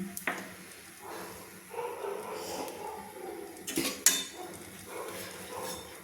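A spoon stirs hot mustard oil in a kadai, making a few clinks and scrapes against the metal over a faint, quiet sizzle.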